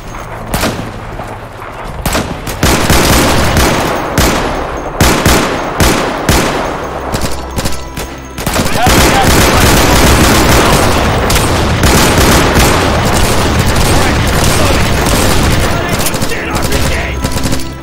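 Heavy gunfire in the Insurgency co-op shooter: close, loud bursts and single shots, sparse at first, then a dense continuous automatic fusillade for the last half, with no gaps.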